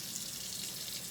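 Kitchen tap water running while pots and pans are washed in a sink: a soft, steady hiss of flowing water, faint and unbroken for about a second, with no talking.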